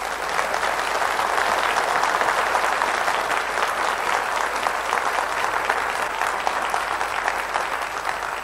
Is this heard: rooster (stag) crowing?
no